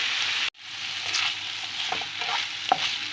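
Steady hiss and crackle of turkey sausages frying in oil in a hot pan, close and fairly loud, with brief clinks of stirring and a short pause near the start.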